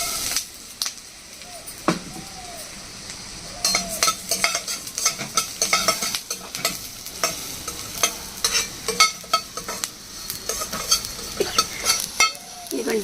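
Coriander seeds fry in oil in a pan while being stirred, giving a crackling sizzle broken by frequent sharp scrapes and clinks of a spoon against the pan, close and loud.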